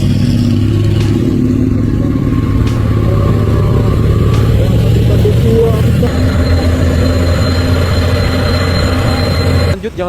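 A heavily loaded wood truck labours up a steep hill, its engine a loud, steady low drone with rattling and clatter throughout, close by, briefly cutting off at the end.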